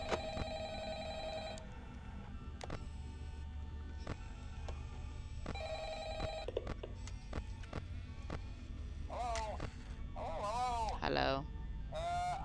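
A telephone bell rings in Five Nights at Freddy's, two clear bursts of ringing separated by a pause, followed by a voice talking.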